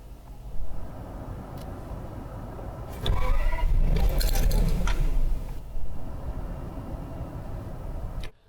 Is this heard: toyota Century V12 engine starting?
yes